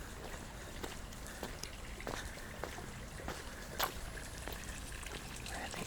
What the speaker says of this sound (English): Hear the water?